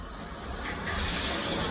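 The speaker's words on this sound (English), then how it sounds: "Here comes the water." A steady, loud hiss of water spraying from a newly installed stainless steel multi-stage filter shower head, rising slightly and then holding constant.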